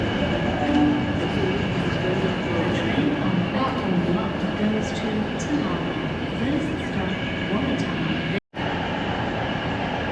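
A Hunter diesel rail car rumbles steadily nearby at Newcastle Station with continuous low mechanical noise and faint voices in the background, broken by one brief dropout near the end.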